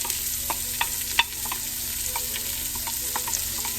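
Onions and tomato paste sizzle in hot bacon grease while being stirred, a steady frying hiss broken by light irregular scrapes and taps of the spoon against the pan, close and continuous.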